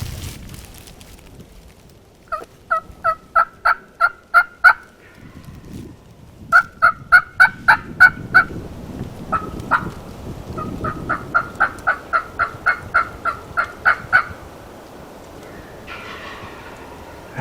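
Wild turkey gobbles in a pasture, several loud rapid rattling bursts in repeated series at mid distance, with rustling and quiet ambient noise between them.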